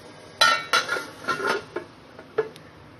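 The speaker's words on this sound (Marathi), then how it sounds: "झाकण ठेवून शिजू देणार आहे।" A metal lid is set onto a cooking pot of simmering cashew curry with a few close, sharp clinks and rattles, followed by a couple of lighter taps, with no talking.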